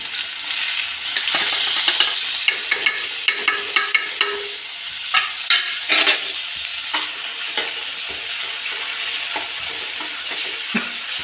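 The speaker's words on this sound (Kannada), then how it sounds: "ಎಣ್ಣೆ ಕಾಯ್ತಾ ಇದೆ ಫ್ರೆಂಡ್ಸ್ ನೋಡಿ. ಇವಾಗ ನೋಡಿ ಉಳ್ಳಾಗಡ್ಡಿ ಟೊಮೆಟೊ ಹಾಕ್ತಾ ಇದ್ದೀನಿ." Onion and tomato tossed into hot oil, a steady close sizzle and crackle with repeated scraping stir strokes of a spoon in the pan, no voices.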